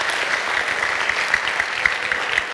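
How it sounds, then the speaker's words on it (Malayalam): An audience at a talk breaks into loud sustained applause, dense steady clapping from many hands that continues without pause before stopping sharply. "ഒരു വെട്ടിക്കെട്ട് കയ്യടി ഒന്ന് പാസ്സാക്കി എല്ലാവരും കൂടെ"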